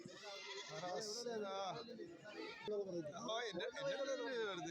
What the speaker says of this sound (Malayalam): കുറച്ച് ആടുകൾ നിൽപ്പുണ്ട് ഈ ഭാഗത്ത്